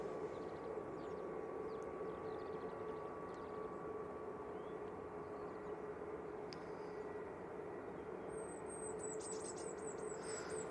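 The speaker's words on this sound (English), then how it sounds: "Next out, we've got the Jet2 321neo." Jet2 Airbus A321neo departing Manchester Airport, a steady broad engine roar heard from a distance and sustained throughout, with faint bird chirps near the end.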